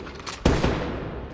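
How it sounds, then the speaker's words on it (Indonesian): A single sharp gunshot from the horror film Insidious bursts out loud after a moment of low ambience, its blast decaying into a long rumbling echo. "Tiba-tiba saja Josh mendengar suara tembakan dari ruang tamu."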